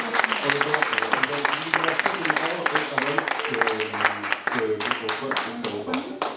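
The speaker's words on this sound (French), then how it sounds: "je pense qu'on peut les applaudir encore" Audience applause with steady clapping after a fight bout, filling the whole stretch at moderate loudness while a presenter's voice carries over the crowd.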